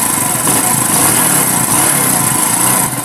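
A Bajaj 125 motorcycle with a fault that keeps it from running steadily has its engine running close by. It gives a loud, continuous buzzing drone that stays fairly even throughout, and no voices can be heard.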